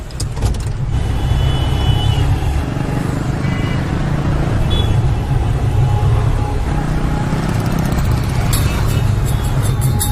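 A car pulls away with a steady, loud engine drone and some revving that holds for about ten seconds, with faint voices now and then over it.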